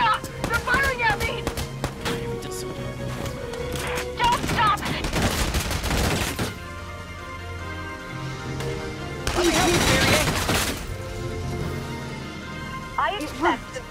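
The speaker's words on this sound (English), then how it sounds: "Stop! They're firing at me!" Gunfire rattles through a Valkyria Chronicles 4 video game battle in repeated volleys and bursts, loud and near, mixed with game music and voices speaking.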